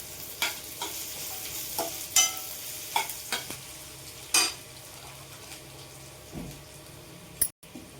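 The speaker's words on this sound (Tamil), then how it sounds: "ஆனியன் வதங்கிறதுக்காக முன்னே போட்டோம்னா நல்ல சீக்கிரம் வதங்கி கொடுக்கலாம்" Chopped onion frying in oil crackles faintly in the background while a utensil scrapes and clinks against the pan in intermittent stirring strokes.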